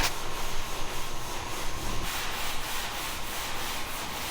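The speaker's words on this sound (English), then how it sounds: "We'll get that all sanded in 180, and this fender's done" Sandpaper at 180 grit scrubs across a glazed car fender, a loud, close, continuous rasp of rhythmic back-and-forth strokes with no voices over it.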